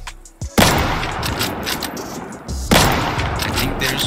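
Gunfire in the video game Deadside: two loud, close bursts of rapid shots, each followed by a sustained crackling rattle, with no talk over it.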